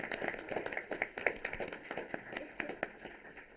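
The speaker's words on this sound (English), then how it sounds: "Can we give them a round of applause?" Audience applause at a Sierra Madre City Council regular meeting, a quiet, steady patter of claps from a small crowd, heard from some distance and continuing evenly for a few seconds.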